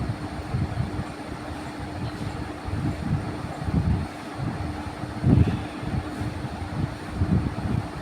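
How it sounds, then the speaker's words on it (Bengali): A train pulls into a station on the way to Chandannagar near Naihati, a steady low rumble with rhythmic bursts of wheel clatter rising and falling throughout, fairly close, with no voices. "এই যে ট্রেন ঢুকছে"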